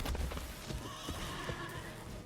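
A horse neighs over clattering hooves for Shadowfax in a Magic card game, a brief loud whinny with busy clip-clop underneath.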